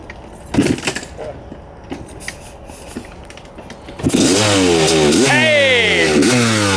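A Honda CR500 two-stroke motorcycle engine fires up after some fumbling and clunks, then revs hard several times in rising and falling sweeps, loud and close.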